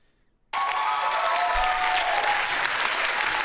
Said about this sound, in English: I heard the applause.